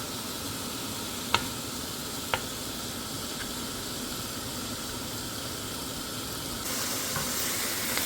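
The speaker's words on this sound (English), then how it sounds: "Brown 500 grams of lean ground beef." Lean ground beef browns in a pan with a steady, even sizzle and hiss, broken by a couple of faint clicks from stirring, growing slightly louder near the end with no voices.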